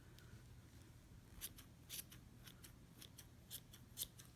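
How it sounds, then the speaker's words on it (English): Scissors snip away at a fluffy yarn pompom made from Bernat Softee Baby yarn, with about ten crisp, faint cuts coming in an uneven rhythm over a quiet background hum. "we're just going to trim this up until it looks like the nice little ball that we want to use"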